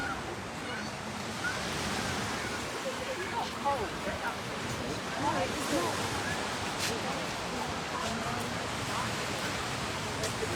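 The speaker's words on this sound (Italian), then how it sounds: "intanto questo è il lungomare di Cefalù, il suo mare" Sea waves wash steadily along the seafront at Cefalù in Sicily. The surf makes a continuous, moderately distant hiss with faint wind, and someone talks over it.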